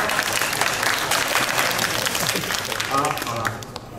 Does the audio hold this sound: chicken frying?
no